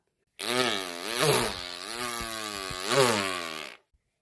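A voice beatboxing an imitation of a chainsaw: a loud, buzzing, revving drone held for about three seconds, swelling twice as if throttled up, then cutting off abruptly.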